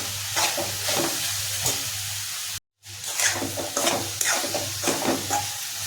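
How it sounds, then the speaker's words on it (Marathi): Crushed peanuts and coriander stir-fried in a pan, with a close, even sizzle and repeated scraping stirring strokes, broken once by a brief silence, without talk. "आता आपण शेंगदाण्याचा कूट टाकायचा, त्यानंतर कोथिंबीर टाकायची, हे चांगलं परतवून घ्यायचं"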